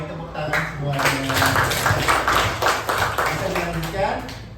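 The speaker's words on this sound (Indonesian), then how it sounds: "Baik, tepuk tangan semuanya." A fifth-grade class of students claps together in a classroom, a dense, sustained burst of applause lasting several seconds with a voice briefly heard underneath.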